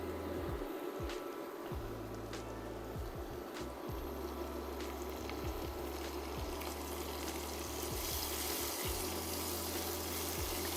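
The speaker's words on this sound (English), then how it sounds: "Does anybody else like the sound of a frying pan? Like a sizzling pan?" Quinoa sizzles in hot oil in a frying pan with a steady, close hiss and crackle that carries on evenly without any talking.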